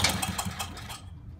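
A 1980s Sears Craftsman snowblower engine sputters and chugs at start-up in rapid, rough bursts like a machine gun, loud and close, then cuts out abruptly after about a second.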